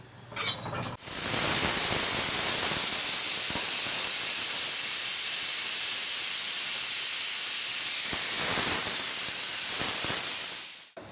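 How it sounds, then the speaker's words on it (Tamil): Pressure cooker on a stove venting a loud, continuous hiss of steam for most of the stretch while cooking jeera rice, with a brief sputter before the release and a slight surge near the end. "குக்கரை மூடி ஒரு 5-6 விசில் போட்டுருவோம்."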